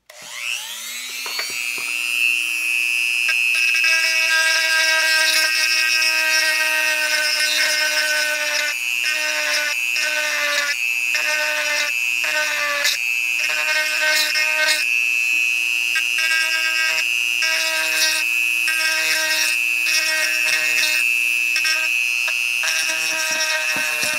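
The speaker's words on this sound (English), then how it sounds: "I'm going to check the drill bit again." A dental drill grinds dentures with a loud, high, steady whine that spins up at the start and keeps a continuous tone for over twenty seconds, its pitch briefly dipping several times under load.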